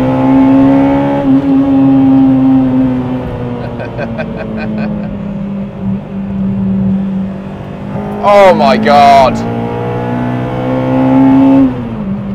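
A restored car with a limited-slip differential driving hard through wet corners, engine droning steadily with rising and falling revs, a brief sharp squeal or rev burst midway, while someone talks excitedly over it.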